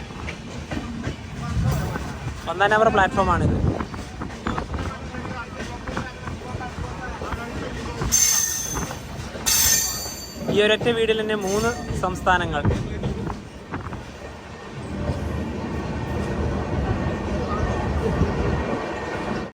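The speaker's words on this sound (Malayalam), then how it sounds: "ഗുവാഹട്ടിയിൽ നിന്ന് ദിബ്രുഗഡിലേക്കുള്ള നാഗാലാൻഡ് എക്സ്പ്രസ്" Nagaland Express, running from Guwahati to Dibrugarh, at Dimapur railway station: train and platform rumble with clanking and squealing bursts, heard under someone talking over most of it.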